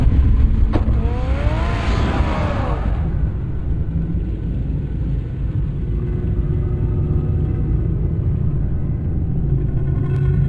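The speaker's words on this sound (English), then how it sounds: "Get the car ready, Alfred." Car engine in Batman: The Telltale Series video game, a steady low rumble running throughout, with a brief rising and falling whine near the start.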